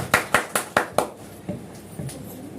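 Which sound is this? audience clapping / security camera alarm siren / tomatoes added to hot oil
audience clapping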